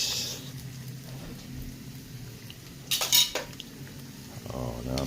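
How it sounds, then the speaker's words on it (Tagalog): Metal utensils clank and scrape in a pan as potatoes are added to beef cooking on the stove, a short burst of clatter near the middle over a steady background hiss. "Lagyan ng patatas mga kaibigan."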